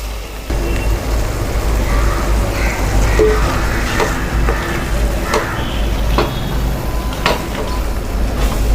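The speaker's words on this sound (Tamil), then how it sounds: "எண்ணெய் வந்து லைட்டாக மேலே வர டைமுக்கு நம்ம இப்போ அரிசியும் போட்டுக்கலாம்." Rice hits hot oil in a pan for prawn pulao and sizzles loudly and steadily, with the scrape of stirring heard now and then.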